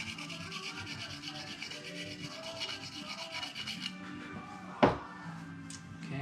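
A surface on a Vortex 4 DLG glider build is scuffed with steady, close rubbing strokes like light sanding, ending in a sharp knock near the end.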